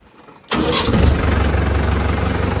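A farm tractor's diesel engine cranks and catches abruptly, then settles into a loud, steady close-up idle.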